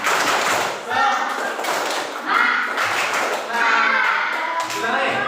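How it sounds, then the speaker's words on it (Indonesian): Children performing the Indonesian 'tepuk semangat' clapping chant in a classroom, rhythmic patterned claps and taps under chanting young voices, loud and close. "Tepuk semangat."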